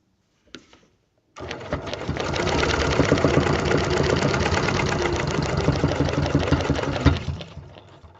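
A sewing machine stitches quilt pieces in one long, fast, even burst of ticking mechanical rhythm after a brief tap, then stops abruptly.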